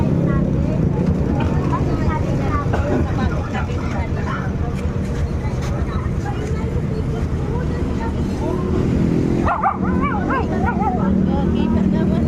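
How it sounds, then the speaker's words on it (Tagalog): A dog barks and yips in short bursts outdoors, half buried under steady, close conversation from several people. "ang ganda ng aso"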